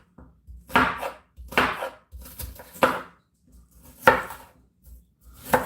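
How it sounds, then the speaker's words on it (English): A sharp knife roughly chopping onions on a board, with about eight firm, close cuts in an uneven rhythm and short pauses between them, with no talk. "Onions, chop roughly, okay?"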